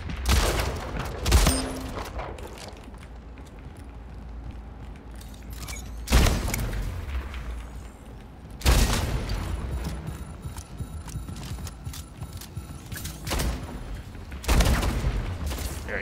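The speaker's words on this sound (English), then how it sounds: "three people shooting at me!" Gunfire from several players in the arena shooter Spitgate, with sharp loud volleys and bursts at intervals over a rumbling game background, no talk.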